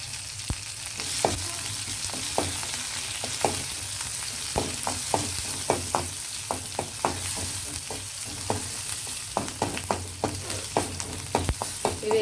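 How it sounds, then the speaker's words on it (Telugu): Cumin, mustard seeds and dried red chillies sizzle and crackle steadily in hot oil, with scattered sharp pops and spoon stirs through a continuous frying hiss. "అది కొంచెం వేగాక జీలకర్ర, ఆవాలు, అవి కొంచెం వేగాక ఎండుమిర్చి,"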